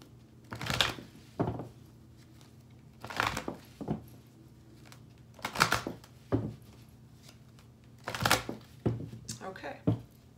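Oracle cards are shuffled by hand in four or five separate bursts of crisp riffling and flicking, close and clear, with short pauses between them.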